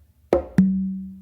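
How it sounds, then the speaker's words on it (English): A sharp close slap on a conga is followed quickly by an open tone on the tumba that rings out with a long, steady, low decay. The drum is close and alone. "you're gonna do an open on your tumba after doing that close slap"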